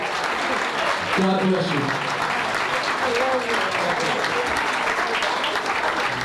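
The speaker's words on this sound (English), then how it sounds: "give the four of them a nice warm round of applause" Wedding guests applaud warmly at a 2004 reception, a steady wash of clapping from a crowded room throughout, with a voice speaking briefly over it early on.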